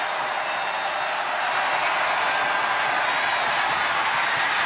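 Broad, steady roar of a football stadium crowd on its feet cheering, a continuous wash of noise with no break.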